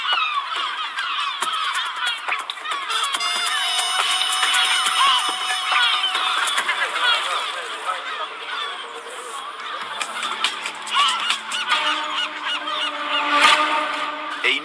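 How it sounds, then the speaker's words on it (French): Herring gulls and great black-backed gulls calling loudly and continuously, a dense overlapping chorus of harsh honking and laughing cries close by, without any talk. "Les goélands argentés et les goélands marins, pour être précis."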